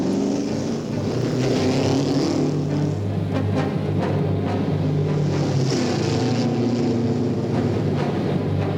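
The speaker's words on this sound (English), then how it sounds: "pulls onto the track in the Daimler Special" A Daimler Special race car pulls onto the track at the 1962 Indianapolis 500, its engine roaring loud and steady with shifting revs over a broad, noisy crowd and track din.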